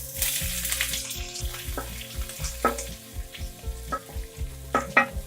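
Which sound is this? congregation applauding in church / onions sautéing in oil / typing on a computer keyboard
onions sautéing in oil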